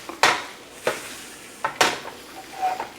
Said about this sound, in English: We're just going to give this a toss.